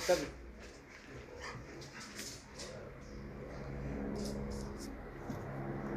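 A dog in an uneasy guard-training situation gives a sharp opening yelp, then faint whimpers and small yips over a busy background, with muffled voices nearby.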